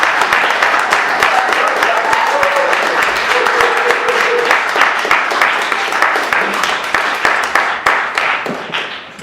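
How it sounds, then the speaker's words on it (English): An audience at a spoken-word poetry event claps in a dense, continuous burst that gradually thins out toward the end, with no talking over it. "let's just give him another round of applause"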